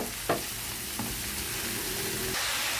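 Grated carrots and potatoes sizzling in olive oil in a pan, a steady close frying hiss with a few brief stirring clatters.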